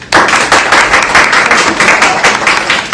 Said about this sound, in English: please help me in giving a warm welcome and congratulatory applause for Cella